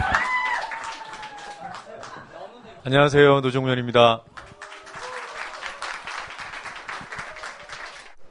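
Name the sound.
audience applause welcoming a speaker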